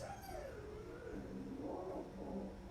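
Dogs on a farm howl in long wavering tones that rise and fall, moderately close over a noisy background.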